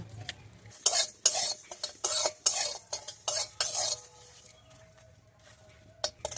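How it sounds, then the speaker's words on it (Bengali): Dry red chillies, cumin and coriander seeds are stirred and fried in a pan, a series of close, sharp scraping strokes with soft sizzling between them, then a quieter pause. "দুটো শুকনো লঙ্কা, জিরে, কাঁচা জিরে আর ধনে দিয়ে আমি ভালো করে এগুলো ভেজে নেব"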